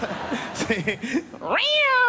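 After some brief talking, a cat lets out a loud, drawn-out meow close by.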